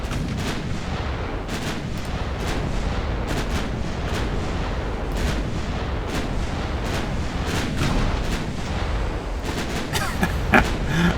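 Naval battleship guns in Ultimate Admiral Dreadnoughts pound out a dense, continuous barrage, with overlapping booms and rumbling shell fire rolling on without pause and a few sharper, louder blasts near the end.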